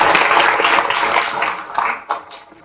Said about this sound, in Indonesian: sekali lagi kita tepuk tangan untuk Mbak Henny